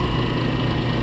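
A rock grinding and polishing machine with cutter and polishers on one spindle runs with a loud steady motor hum and vibration, close and continuous.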